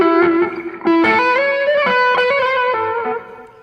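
Distorted electric guitar with effects playing an ascending Lydian motif in a quick run of picked notes climbing the fretboard, loud and close, alone with no talk.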